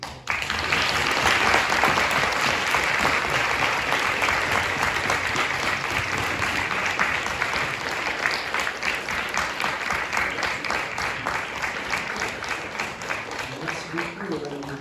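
A conference audience gives loud, sustained applause at a closing session on European themes, thick rapid clapping that holds steady for many seconds before gradually thinning, with a voice briefly heard.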